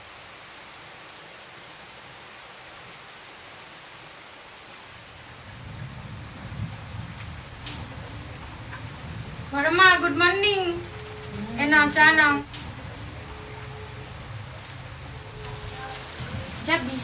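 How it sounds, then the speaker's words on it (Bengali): Steady rain falls through a morning downpour, starting as a soft broadband hiss and thickening after a few seconds. It continues as a constant backdrop while someone speaks briefly over it. "যা বৃষ্টি হচ্ছে সকাল থেকে"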